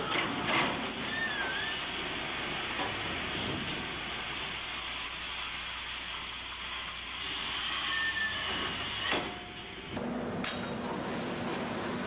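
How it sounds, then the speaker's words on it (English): Loud industrial rumble and hiss of coke dumping from a steelworks transfer car into stockhouse bins below a blast furnace trestle, with clanks and a heavy thud near the end. "the transfer car discharges its load into the stockhouse bins below the trestle"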